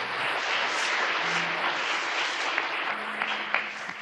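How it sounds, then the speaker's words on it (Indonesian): A church congregation applauds continuously, a dense even patter of many hands held at a steady moderate level throughout. "Tepuk tangan untuk Tuhan Yesus."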